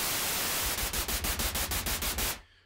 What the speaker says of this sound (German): Und auch jetzt haben wir wieder so eine Art Rauschen hier.